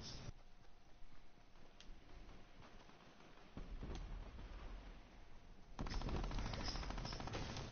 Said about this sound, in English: And look, there's my minigun.